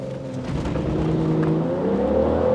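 A BMW 640d pulling away hard under launch control, its diesel engine rising in a steady, building drone for a couple of seconds, loud and close with no speech.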